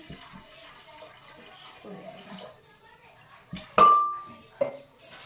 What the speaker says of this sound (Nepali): अब एउटा कुकर बसाल्ने अनि त्यसमा अलिकति पानी हाल्ने।